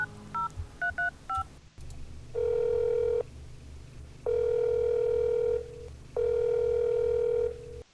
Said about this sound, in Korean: 불길한 예감이 들어 다시 걸었다.